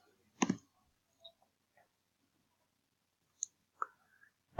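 Computer mouse clicks arrive as a sharp double click first, then several sparse single clicks spaced apart, close and faint in a quiet room.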